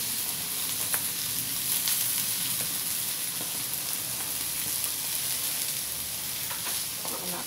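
Glass noodles with mushrooms stir-fry in a pan, giving a steady soft sizzle and crackle with faint scraping of stirring throughout, no talking.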